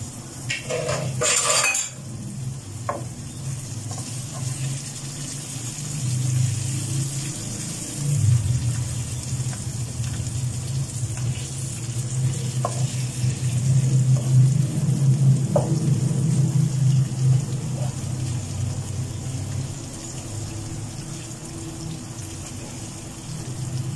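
Chopped onions fry in a generous amount of oil in a pan for a vegan stuffed tinda dish, giving a steady sizzle under repeated metal clinks and scrapes from stirring.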